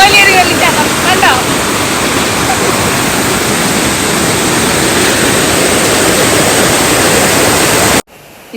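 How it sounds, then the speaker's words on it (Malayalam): Oliyaruvu waterfall tumbling over three or four tiers of rock, a loud, steady roar of rushing water that fills the scene without pause before cutting off abruptly near the end. "ഞങ്ങളുടെ സ്വന്തം ഓലിയറി വെള്ളച്ചാട്ടം കണ്ടോ."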